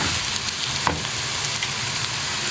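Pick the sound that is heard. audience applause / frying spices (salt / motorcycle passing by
frying spices (salt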